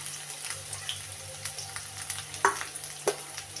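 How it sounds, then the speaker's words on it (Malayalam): Onion frying in oil with mustard seeds and curry leaves gives a quiet, crackly sizzle dotted with light pops and a couple of sharper spatters, heard close and alone beneath a faint low hum. "ഉള്ളി നല്ലോണം ഒന്ന് വാടട്ട്."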